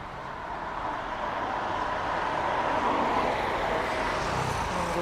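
Steady, broad roar of road traffic with a bus, heard in the late afternoon while waiting to transfer to a bus toward Beduk Reservoir; continuous engine and tyre noise rising slightly and holding at a fairly loud level, with no talk.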